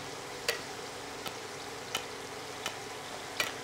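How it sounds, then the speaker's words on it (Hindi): Stuffed besan and methi puri frying in hot oil, a steady soft sizzle with a handful of sharp crackles and pops spaced about a second apart, quiet and close with no talking. "बस साइड में हमारा तेल भी गर्म हो गया है और जो पूरी हमने बनाई है वो इसमें डाल देते हैं"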